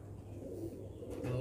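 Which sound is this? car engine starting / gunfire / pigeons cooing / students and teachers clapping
pigeons cooing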